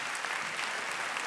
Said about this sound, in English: let's give a big round of applause for Herban Teas